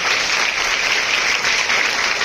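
An audience at a residential minority welfare school event in Jainoor claps to welcome a district official, a steady, loud burst of many hands applauding without pause, no voices on top.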